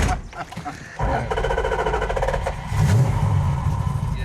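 A classic car's engine cranks briefly and catches, then settles into a steady, rough-edged idle before a stronger rev pushes it louder in the last second and a half.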